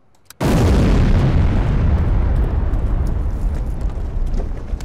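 A demolition blast in the video game Demolition Company: after a brief quiet moment, one sudden massive boom hits loud and close, then a long rumbling roar and debris noise slowly fade over several seconds.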